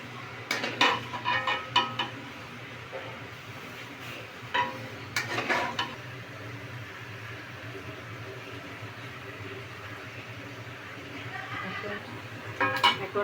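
A cooking pot of chicken roast is taken off the stove with scattered metallic clanks and scrapes, a couple of sharp clusters early and midway, over a quiet kitchen background with someone talking.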